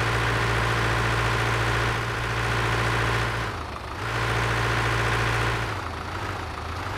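A heavy tractor engine in Farming Simulator 2013 runs steadily, a loud, close, low droning idle that dips briefly and then resumes, with no voices.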